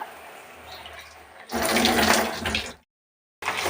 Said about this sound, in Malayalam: നമ്മൾ അകത്തോട്ട് നമ്മൾ കുറച്ച് വെള്ളം ഒന്ന് ഒഴിക്കുക. അകത്തെ ചെളിയൊക്കെ നമുക്ക്